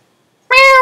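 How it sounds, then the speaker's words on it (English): A single cat meow from a Minecraft game, loud and close, starting abruptly after a short silence and ringing with a clear, bright tone. "Let's turn this up a bit so you can actually hear them meowing"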